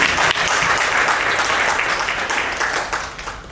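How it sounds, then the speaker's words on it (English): Audience at an anniversary event applauding the presenters after a panel discussion, steady dense clapping from a large crowd that tapers off toward the end. "I would ask you to again applaud the presenters."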